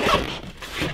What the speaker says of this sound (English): zippers